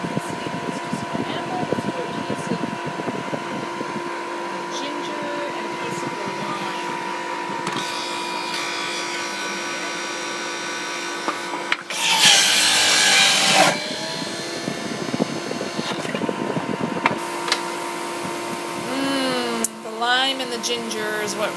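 A Waring Pro juice extractor grinds ginger with a steady motor whine and rough shredding noise, with a harsher burst of grinding partway through and a person talking over it.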